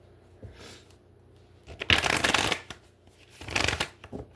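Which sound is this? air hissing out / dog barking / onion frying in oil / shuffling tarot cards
shuffling tarot cards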